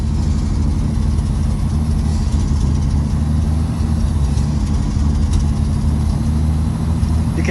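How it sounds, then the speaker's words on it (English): A rusty old Ford truck engine, just revived after sitting for twenty years, idles roughly and close up, a loud continuous low rumble with slight wavering as brake pumping disturbs the vacuum. "When I pump it, it changes how it idles."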